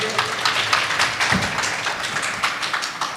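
Audience clapping welcomes a guest being called up during a Shrimad Devi Bhagwat Katha religious discourse, a steady crowd of hand claps, fairly dense and sustained for a few seconds with no talking.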